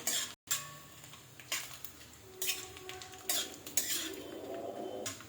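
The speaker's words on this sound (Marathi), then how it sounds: "आता आपल्याला खोबरं भाजून घ्यायचं आहे हलकासा लाल रंग येईस्तोवर आपण खोबऱ्याला परतणार आहोत" A utensil stirs grated coconut as it roasts dry in a pan, giving soft, quiet scrapes and light metallic clinks in an irregular rhythm.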